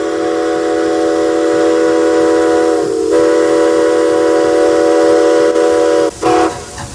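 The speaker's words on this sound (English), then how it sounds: "Steam engine 73 pulls the vintage parlor cars through town" A steam locomotive whistle from engine 73 on the narrow-gauge White Pass and Yukon Railroad blows long and loud with steady harmonic tones, briefly dipping before sounding again and cutting off near the end.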